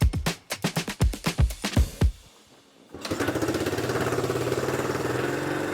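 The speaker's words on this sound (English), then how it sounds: "13 attempts later, the bike finally started to sputter to life." A 50-year-old motorcycle engine turns over in a series of rhythmic kick-start chugs, pauses briefly, then sputters to life and holds a loud, steady, rough idle, close up.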